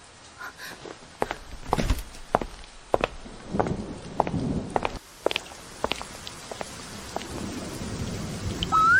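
Heavy rain pours steadily while footsteps splash through it, with rumbles of thunder and sharp knocks scattered throughout.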